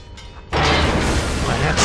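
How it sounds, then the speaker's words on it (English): An ion grenade detonates in Knights of the Old Republic II, a sudden loud boom that becomes a sustained, rumbling crackle of energy lasting over a second. "You know what, take an ion grenade."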